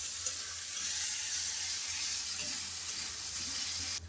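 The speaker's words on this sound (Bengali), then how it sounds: "পেঁয়াজটাকে ভালো করে লাল করে ভেজে নেবো।" Chopped onions fry in a pan with bay leaves and cumin for a potato and meat curry, giving a steady, close sizzle that holds evenly throughout with no talking.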